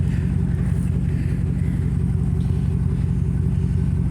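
A 2011 Chevrolet Tahoe LTZ with its muffler deleted idles in a steady, deep, loud exhaust rumble with an even low pulse throughout, close up and with no talking.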